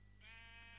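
A single Minecraft sheep bleat, steady and wavering, rising out of a low hum and lasting under a second.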